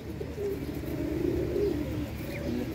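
Several tournament pigeons at a pigeon-flying contest in Kalpi coo in a low, rolling, continuous murmur that swells slightly midway. The cooing is close and fairly loud, with no voices.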